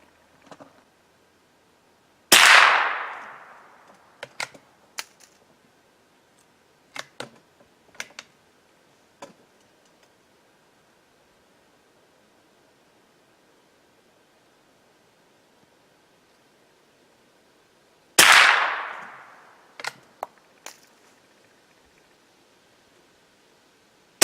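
Two loud, sharp .22 caliber rifle shots fired with CCI Long ammunition, spaced far apart, each followed by a brief decay and small clicks of handling in an otherwise quiet setting.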